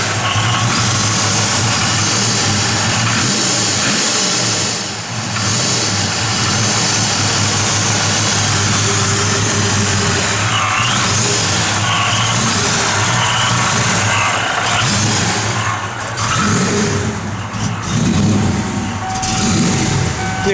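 A 1993 Ford Mustang SVT Cobra idles loud and close with a steady rumble, its revs surging up and dipping slightly at times, with no talk over it.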